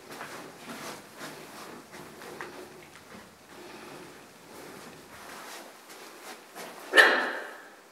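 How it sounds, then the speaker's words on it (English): A small dog yaps in a few short barks, faint and somewhat distant at first, then one louder close bark near the end, against a quiet background. "Got a pesky little dog, just won't leave me alone."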